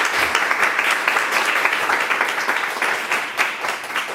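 Church congregation clapping steadily and fairly loud as the pastor comes forward for the sermon at a Sunday service, a dense even patter with no talk over it.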